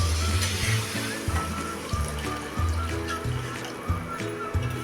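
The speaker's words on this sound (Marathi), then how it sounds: "बघा आता ह्यात अजून थोडं मी हे पाणी ओतून घेते" Hot water is poured into a simmering potato curry, a soft continuous trickle and slosh heard close by under a gentle background hum, with no clear speech.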